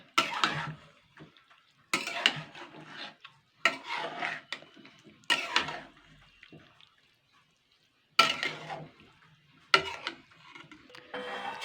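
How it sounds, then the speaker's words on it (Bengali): Rice for chicken pulao being stirred in a pot, with a utensil scraping and clinking against the metal in several separate bursts between quiet pauses, close and fairly loud. "এবার আমি এটাকে দিয়ে ভালো করে নাড়াচাড়া করব।"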